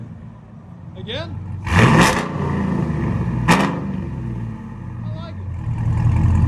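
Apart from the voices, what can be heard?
supercharged GMC 6.2L V8 Denali revving, dual exhaust valves open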